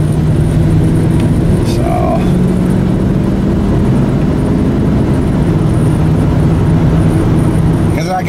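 A truck is heard from inside the cab while being driven, its engine and road drone steady and loud throughout, with someone speaking over it.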